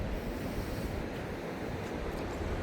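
Creek water running off Sandstone Falls in West Virginia, swollen after a recent flood, gives a steady broadband rush that stays even and continuous throughout, with no voices.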